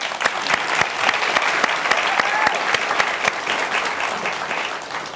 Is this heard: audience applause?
yes